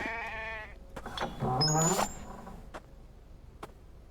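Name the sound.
sheep bleating in a video game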